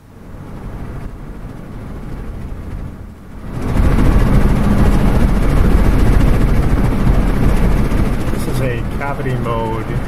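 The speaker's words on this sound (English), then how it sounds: "Cavity mode in a Ford Fusion car." Low, steady in-car rumble from cavity-mode noise as vortices shed off the front of a Ford Fusion's open window and strike its rear edge, jumping louder partway through and droning broadband, with faint tonal whistles near the end as the car slows.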